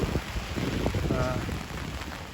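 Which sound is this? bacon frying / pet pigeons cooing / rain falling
rain falling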